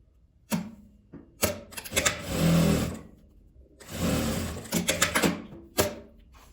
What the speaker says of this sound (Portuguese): Vou pregar aqui do outro lado também.